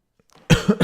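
After a brief quiet, a person coughs close to the microphone, a couple of harsh, throaty bursts in quick succession during a chess stream.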